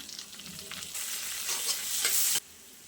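Curry leaves and whole spices such as cinnamon crackle and sizzle in hot oil for a capsicum butter chicken gravy, a bright, steady frying hiss that swells for about a second and a half, then cuts off abruptly.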